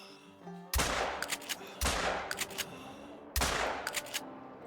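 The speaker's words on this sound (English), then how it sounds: "If he walks through right there, we're taking the shot." Rifle shots in the hunting video game Call of the Wild, three sharp loud reports spaced a second or so apart, each followed by a rattling echo tail.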